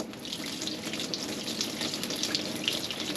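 Water pours steadily into a horse water trough outdoors, a continuous broadband gushing and splashing that stays fairly loud and even throughout with no voices.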